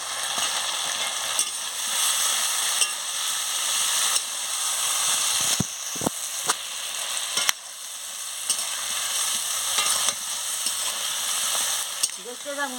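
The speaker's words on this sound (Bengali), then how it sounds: "এবারে চিংড়ি মাছটা দিয়ে ভালো করে কষিয়ে নিচ্ছি।" Prawns being sautéed in a pan sizzle loudly and steadily, broken by repeated sharp clicks and scrapes of a spatula stirring them, close up, with a few heavier knocks against the pan.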